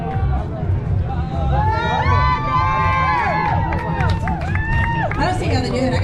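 Spectators at the Rainsville Freedom Run 10K cheer and shout for runners passing by, loud lively babble with whoops and calls, nearby voices talking over it.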